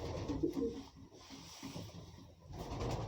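A racing pigeon, a fine-built pale fawn bird, coos in low soft throaty bursts close by, with faint rustling and quiet background noise.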